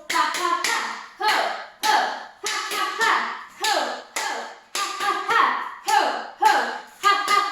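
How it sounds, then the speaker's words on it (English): A laughter yoga group claps in rhythmic bursts, each a quick run of sharp, close claps followed by a short pause. The pattern repeats about ten times. "let's get some more movement with our clapping"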